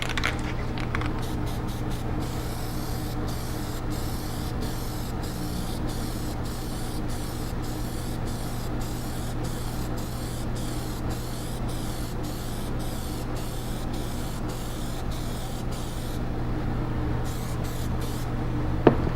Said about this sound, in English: the first coat that we're going to do is that first coat of black